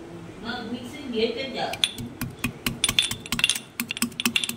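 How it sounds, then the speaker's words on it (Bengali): Rice grains being crushed with a metal mortar and pestle, giving a quick run of sharp, close clinking pounding strikes after a brief stretch of someone talking. "এই হামানদিস্তারই একটা করে চালটা নিয়ে একটু থেতো করে দিচ্ছি"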